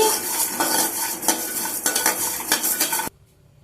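Sesame seeds crackle and pop while dry-roasting in a pan with peanuts, coriander seeds and dried coconut over low heat, a busy steady sizzle with stirring scrapes that cuts off abruptly near the end.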